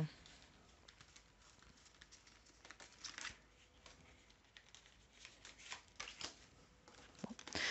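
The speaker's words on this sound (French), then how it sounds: "On va remettre des cartes." Playing cards are shuffled and laid out in soft, quick riffles and slides, close and quiet, with someone talking at intervals.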